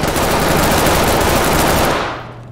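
Sustained full-auto gunfire in Ready or Not roars through a floor in a loud, dense burst lasting about two seconds before abruptly cutting off, leaving a faint low hum.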